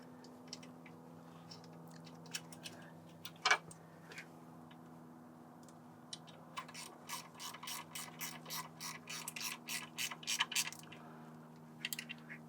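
A ratchet with an 8mm socket tightens bolts on the power steering pump of a 2004-2008 Ford F150 with a 4.6L/5.4L engine, giving a close, fast run of clicking bursts after a few isolated clanks.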